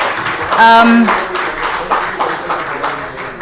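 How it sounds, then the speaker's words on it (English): Applause from the audience at a retail summit award ceremony, steady clapping through the clip with a voice speaking over it and a brief musical tone near the start. "Round of applause."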